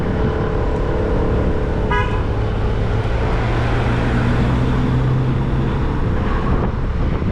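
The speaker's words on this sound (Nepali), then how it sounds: "हर्न हान्न पाउँदैन भित्र नै हर्न हानिरहेको छ" Street traffic roars steadily with wind buffeting the microphone, and a short car horn toot sounds once, mid-distance, over the continuous engine noise.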